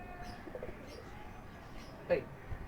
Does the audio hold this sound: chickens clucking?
no